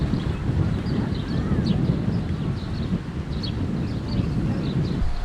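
Steady wind buffets the microphone at a breezy scenic viewpoint, a constant low rumble with no pauses, close and moderately loud.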